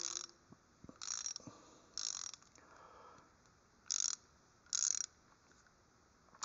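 Pittsburgh Pro flexible-head 3/8-inch drive ratchet clicking in short, sharp bursts, four or five separate runs of fine rapid pawl clicks with quiet gaps between them, close up and alone.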